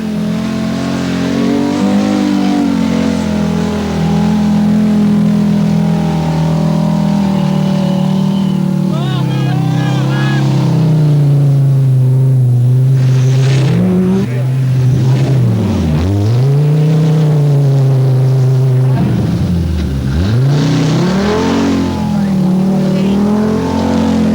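A rally car is driven on a special stage with broken suspension, its engine droning loud and close, rising and falling in pitch through gear changes and revs, while a commentator speaks over it.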